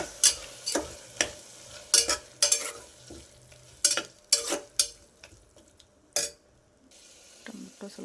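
Spoon stirs and lightly mashes tomatoes with turmeric in a hot pan, giving a string of sharp scraping clinks in irregular bursts over a soft sizzle, close up and with no talk.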